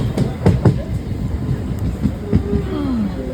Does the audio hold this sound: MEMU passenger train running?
yes